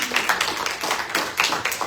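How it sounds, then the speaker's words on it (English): A small audience at a Marianas diaspora panel claps for a panelist, a brisk patter of individual hand claps, moderately loud and close, without talk. "Can we give her a round of applause, everybody?"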